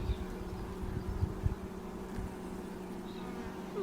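Honey bees drone steadily around an open Langstroth hive during an inspection, a close, continuous buzz with a few louder passes as individual bees fly near.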